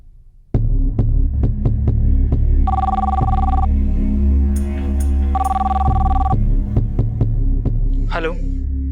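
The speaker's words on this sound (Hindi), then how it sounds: "भाभी, भाभी आपका फोन है।" A telephone rings twice in short electronic bursts during a tense Crime Patrol crime-drama scene, loud over a steady low throbbing music bed, with a brief voice-like sweep near the end.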